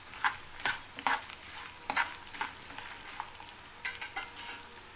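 Ginger, chilies and coriander seeds fry in a pan for ginger chutney while being stirred, with soft sizzling and repeated scraping strokes of a spoon, close and fairly quiet.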